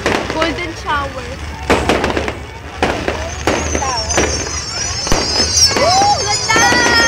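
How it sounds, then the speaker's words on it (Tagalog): Fireworks at the Mall of Asia on Christmas night 2009 boom and crackle in repeated sharp bursts over a constant crowd murmur, with whistling rockets rising and people cheering and talking nearby. "Ang daming fireworks."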